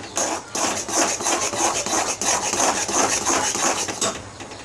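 Gram flour is stirred into hot sugar syrup in a pan for Mysore pak, making steady scraping and rubbing strokes of a spoon against the pan, close and continuous, with no talking.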